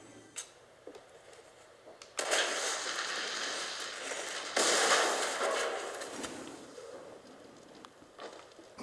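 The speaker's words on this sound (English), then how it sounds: "Large blast." Explosions in the video game Fortnite, heard as sharp bursts followed by rumbling, crackling blasts with a loud peak midway, over quieter game sounds and no talk.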